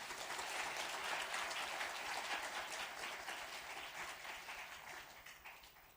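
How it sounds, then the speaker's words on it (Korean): A church congregation applauds warmly during a Sunday service, dense steady clapping that gradually fades over several seconds. "뜨거운 박수로 격려하겠습니다"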